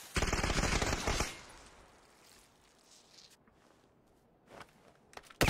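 A loud burst of rapid automatic gunfire in a video game for about a second, then quieter rustling and movement, with a couple of fainter sharp hits near the end.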